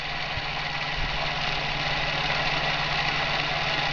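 A Bedini SSG motor spins steadily at about 1,093 RPM, giving a continuous even whirring hum with a faint buzzing tone throughout.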